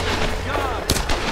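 Enemy gunfire in the Tomb Raider video game cracks out in a couple of sharp, loud shots, one after another over a dense game background.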